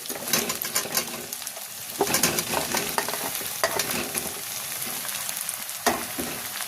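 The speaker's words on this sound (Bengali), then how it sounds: "কেটে রাখা ওলকপি আর আলু একসাথে দিয়ে দিচ্ছি" Kohlrabi and potato pieces frying in a pan with onion, a steady close sizzle broken by scraping stirs and a few louder clatters of the spatula, no voices.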